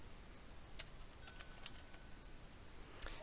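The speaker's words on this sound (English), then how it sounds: "I'm gonna start typing in jobs." Sparse, quiet clicks of keys being typed on a computer keyboard, a handful of separate taps at irregular intervals over low background hiss.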